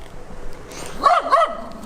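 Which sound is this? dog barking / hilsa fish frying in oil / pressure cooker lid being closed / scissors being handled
dog barking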